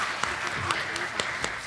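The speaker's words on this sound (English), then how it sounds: "Round of applause for" An audience at a school book quiz competition claps briefly for a contestant, several sharp individual claps rising above a murmur of voices in the room.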